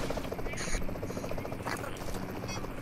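A helicopter's steady rotor drone runs through the Payload video game, a continuous buzzing hum with brief sharper blips layered on top.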